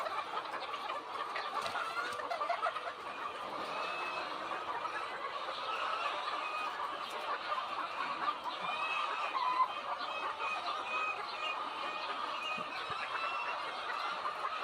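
A flock of farm chickens clucks and chatters continuously at moderate distance, a busy overlapping flock sound with no clear talk.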